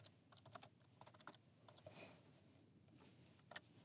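Quiet, close typing on a computer keyboard, a rapid run of key clicks followed by a pause and one sharper keystroke near the end, with no talking.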